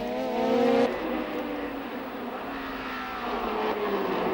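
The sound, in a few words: vintage racing cars on the Montlhéry circuit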